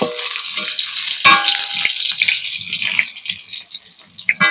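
Pointed gourds fry in a pan, with a bright steady sizzle as the lid is lifted and the pieces are stirred and turned, plus a few sharp clinks and knocks from the utensil.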